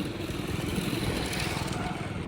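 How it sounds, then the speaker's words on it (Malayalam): A motorcycle engine drones steadily on a street, a continuous mid-level rumble that holds fairly constant for the whole short stretch with no clear approach or fade. "ഇവിടെ ബൈക്കും ഉണ്ട് കേട്ടോ"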